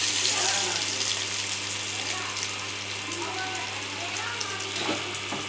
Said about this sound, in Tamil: இங்கே வந்து இதில் கடுகு, கருவேப்பிலை போட்டு காஞ்ச மிளகா போட்டு தாளித்து ஊற்றிக்கலாம்.